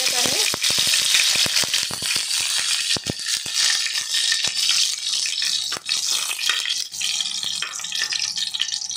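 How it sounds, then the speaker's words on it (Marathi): Garlic and curry leaves frying in hot oil in a pot, a loud crackling sizzle with sharp spattering pops and utensil rattles, settling into a continuous hiss. "इकडे मी टोपामध्ये तेल तापायला ठेवलं आहे आणि ह्याच्यामध्ये मी लसूण आणि कढीपत्ता टाकत आहे।"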